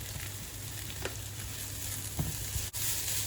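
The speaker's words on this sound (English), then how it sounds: "Fry for another 40 seconds to a minute, then this is done." Spices and black pepper sizzle in a hot pan with a steady, close frying hiss. A few soft clicks of stirring break through near the end.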